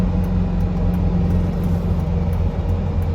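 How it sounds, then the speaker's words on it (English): Steady low rumble of a 1977 Mercedes-Benz 240D diesel sedan driving slowly in traffic, heard from inside the cabin, a continuous loud drone with no talking. "I am using the brake and just taking off the gas to slow down"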